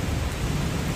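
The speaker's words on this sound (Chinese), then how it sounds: "突然间下大雨啊" Heavy rain pours down in Kuala Lumpur as a dense, unbroken roar of hiss and rumble, loud and close for the whole moment.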